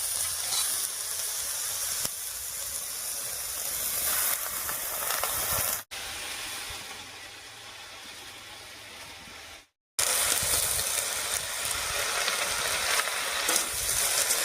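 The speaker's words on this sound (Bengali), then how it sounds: "এবারে কেটে রাখা শাকটা দিব।" Chopped spinach goes into a pan of frying potato, carrot and eggplant, producing a dense, hissing sizzle that carries on close and steady, interrupted by short cuts, with no one speaking.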